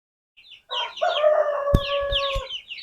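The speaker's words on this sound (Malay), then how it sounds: "nampak ah anak-anak ayam dia dah macam nak tak keruan" Chickens in a commercial-scale coop, with young birds agitated: a rooster crows once over a steady run of clucking and calls, fairly close, with a few sharp knocks near the end and no talk.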